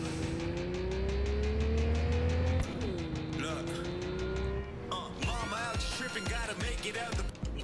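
A fast car in Cyberpunk 2077 races at high revs, then drops pitch and climbs again before tires squeal and skid in bursts. The engine is loud and close throughout.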